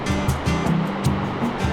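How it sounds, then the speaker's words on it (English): Ocean waves crash in a loud, continuous wash with rhythmic pulsing surges, close by and with no talk over them. "Pretty crazy waves."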